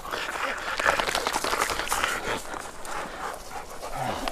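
Hunting hounds on a deer dog drive pant rapidly and steadily up close, with rustling movement and outdoor noise and people talking nearby.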